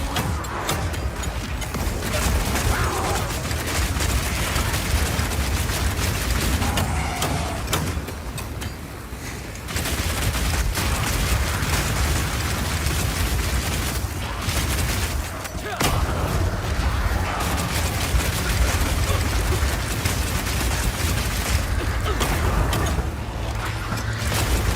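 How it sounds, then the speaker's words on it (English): Explosive grenades detonate in Path of Exile 2 gameplay, a dense, continuous barrage of booming blasts and crackling impacts with only brief lulls between them. "Now I've been using explosive grenades here"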